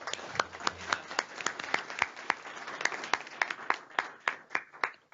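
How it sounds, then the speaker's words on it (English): A small workshop audience claps for the organisers, with distinct individual hand claps at an irregular, fairly sparse rhythm, close and clear, with no talk over them. "I would really like to do a quick round of applause for Sasha Anderson and Stephanie Gowing, who put all this together."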